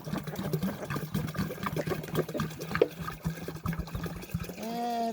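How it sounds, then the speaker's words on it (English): Water trickles and splashes steadily into a poultry water container for several seconds, with a low hum and occasional clunks, ending in a brief voice. "I gotta get your water all in here."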